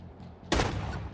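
A single loud gunshot blast in a comedic video game death scene, a sharp broadband crack at mid-clip followed by a sustained rumbling decay.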